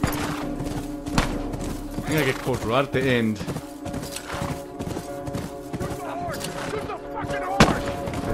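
Horse hooves clip-clop in The Last of Us during a chase, with gunshots and shouting mixed in; someone talks over the steady galloping rhythm.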